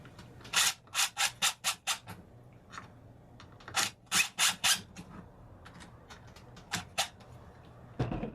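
Screwdriver turning down the wire terminal screw on an electrical plug: a close, dry burst of rhythmic rubbing and scraping strokes in quick groups, with short pauses and a final sharp click.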